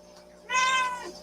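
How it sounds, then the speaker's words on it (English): A small, cuddly cat gives a single clear, drawn-out meow that rises and then trails off, close by against a quiet background. "She's such a cuddly little kitty."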